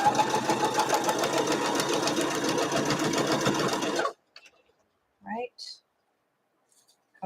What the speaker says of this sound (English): I'm going to flip it over and I'm going to sew on that line.